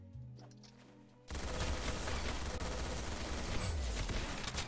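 Rapid gunfire from the Roblox shooter Arsenal erupts after a quieter opening second, then continues as a loud, dense barrage of overlapping shots with no pause until the end.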